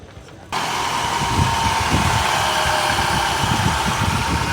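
A car engine starts up and then idles steadily with a low, even rumble and faint vibration, close by, with no talking.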